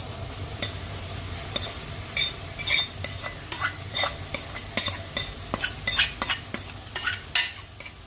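Live, fresh river prawns go into a hot pan and fry for a village-style prawn and egg curry. A steady sizzle runs throughout, broken by frequent clinks and scrapes of a utensil stirring against the pan, with no talking.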